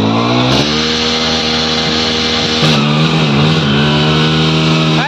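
A Swaraj 855 tractor engine runs loud and close, with a steady diesel drone whose pitch rises and shifts as it revs, without any talk.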